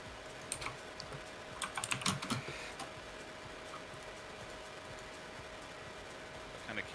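A loud mechanical computer keyboard clatters in quick, irregular bursts of sharp clicks during an online game raid, with quiet gaps between runs of typing over a faint steady hum.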